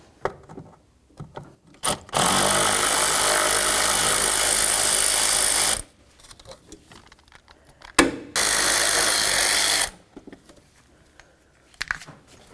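Two sustained bursts of a power tool whirring loose the blower motor mounting bolts on a 1999-2007 Ford F-250, each run lasting a few seconds, separated by quiet clinks and handling noises.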